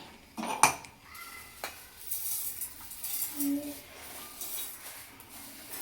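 Cooled roasted flaxseed tipped into a mixer grinder jar, with a sharp metallic clatter of utensils up front, then quieter scraping and light clinks close by.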